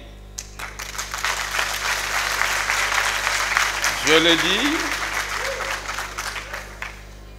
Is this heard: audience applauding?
yes